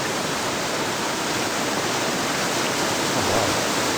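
Storm weather in the Immortal Realm video game: a loud, dense, unbroken roar of heavy rain that holds steady and swells slightly near the end, with no voices.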